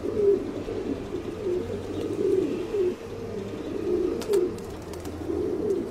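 A flock of city pigeons coos steadily nearby, overlapping soft throaty calls repeating in a rolling rhythm over a low outdoor hum, with a few light clicks and no speech.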